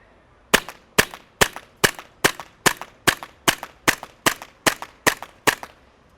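Gas blowback shots from a B&T USW A1 airsoft pistol, thirteen sharp cracks fired at a steady, fairly quick cadence, each with a crisp snap and short metallic tail, clear and alone.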